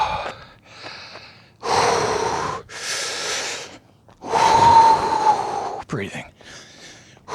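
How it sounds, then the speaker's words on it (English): Heavy, ragged breathing and gasps in uneven bursts, loud and close, with sharp intakes and exhales separated by short quiet gaps, from someone walking through a labyrinth in pouring rain. "Breathing."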